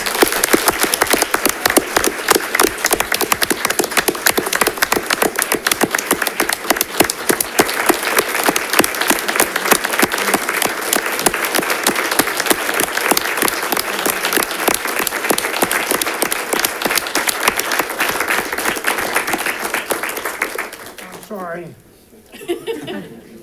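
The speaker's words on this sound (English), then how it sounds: "round of applause" Sustained round of applause at a school district board meeting honoring someone, dense clapping with some chuckles and talk mixed in, fading out near the end as a voice resumes.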